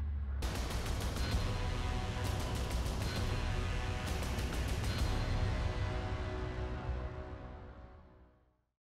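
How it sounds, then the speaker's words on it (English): Pistols fire as a celebration after an Oklahoma State touchdown, with loud rapid volleys of cracking shots rolling over a stadium crowd and then fading out. "Pistols firing"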